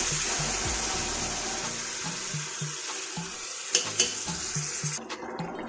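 Boiled fenugreek leaves sizzle and crackle steadily in a hot pan while a utensil stirs, with a few sharp clinks near the end.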